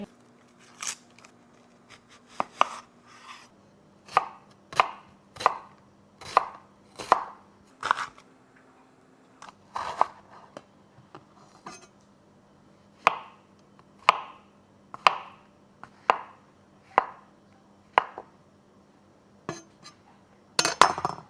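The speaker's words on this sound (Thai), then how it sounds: "ช่วงที่หมักเนื้อเราก็หั่นผักต่างๆไป" A knife chops steadily on a cutting board, about two dozen crisp thuds at a regular, unhurried pace, close up with a faint hum underneath.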